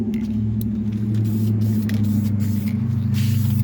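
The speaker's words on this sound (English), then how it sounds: "I guess the more you spray it, the more it looks wrinkled." Aerosol spray paint hisses steadily and continuously at close range as an engine valve cover is coated, with a constant low hum running underneath.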